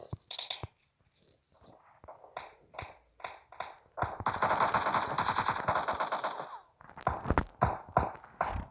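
Video game gunfire with scattered single shots and short bursts, then a sustained loud burst of automatic fire, followed by more sharp bursts up close, with no talk.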